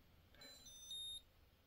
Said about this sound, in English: A little beep.